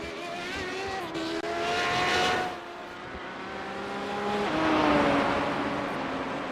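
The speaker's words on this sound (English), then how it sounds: "We're just kind of sitting here just enjoying and listening to the cars." Race cars lap the Mosport track, their engines rising and falling in pitch as they sweep past at a moderate distance, one car after another over a steady background of circuit noise.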